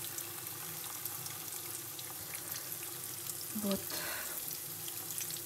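Syrniki, cheese pancakes, fry in a pan with a steady close sizzle filling the clip, and a person speaks briefly near the end over it.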